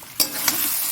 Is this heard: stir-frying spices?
yes